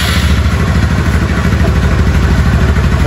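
An old men's-style motorcycle bought as a restoration project runs its engine at a steady idle, loud and close, with a continuous rhythmic clatter and no talking.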